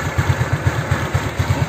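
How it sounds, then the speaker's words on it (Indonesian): A Honda Beat carburetor motorcycle idles after its valve rockers were replaced, giving a close, loud, steady pulsing putter with even, regular beats and no talk. "suara mesinnya udah adem"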